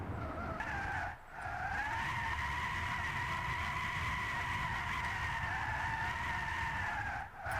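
Tesla Model S drifting in Gran Turismo 6, a sustained, loud tire squeal lasting several seconds, briefly cut at two moments, over a low engine hum.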